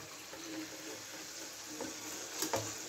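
Prawns for chilli prawn sizzle gently in oil in a pan, a steady soft hiss with faint stirring scrapes and a couple of small clatters near the end, quiet and continuous.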